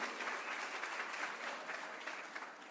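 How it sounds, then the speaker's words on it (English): Parents in an audience at a school closing celebration applaud steadily, a dense continuous patter of many hands clapping at moderate distance, sustained without pause and no speech over it. "let's give our parents a round of applause."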